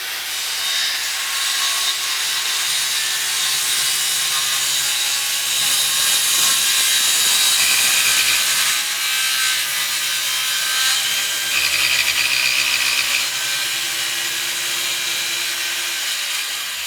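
A power saw whines steadily through a wooden board on a Victorian porch, a loud continuous high-pitched cutting roar with slight shifts in pitch as it bites.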